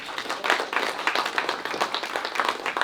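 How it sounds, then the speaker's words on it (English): A crowd at a film cast-and-crew Q&A claps steadily and fairly loudly for about three seconds, a continuous flurry of overlapping hand claps with no talking. "Can y'all give Misha another round of applause, everybody"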